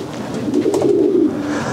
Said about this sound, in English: Now, that's a rare pigeon to have, that blue checker.